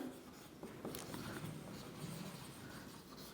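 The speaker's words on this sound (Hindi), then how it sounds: "तो हम ऐसे एक और चीज भी लिखेंगे यहाँ पे, एक और लाइन" Pen or pencil writing another line by hand on paper while working a polynomial maths exercise, a steady soft scratching that runs continuously and close up.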